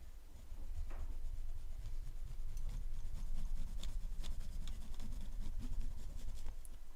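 A painting knife scrapes liquid white and sienna across canvas, cutting in a water line in Bob Ross style, giving a soft, steady rasping rub with a few faint ticks.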